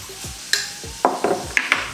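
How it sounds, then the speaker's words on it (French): A beaten egg is being stirred into a pot of American-style mac and cheese with a spoon, giving a handful of close, wet scraping and squelching strokes in an uneven rhythm, with no talking. "Je vais même le casser et le mélanger un petit peu."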